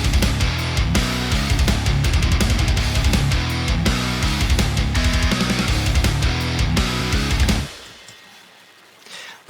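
Humanized programmed drum track built from sample libraries, with kick, snare and cymbal work, plays loud and dense in a steady groove, then cuts off near the end leaving a faint decaying tail.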